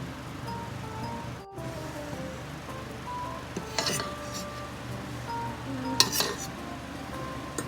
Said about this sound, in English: This is the mixture of flour, salt, and pepper. We have to mix it here.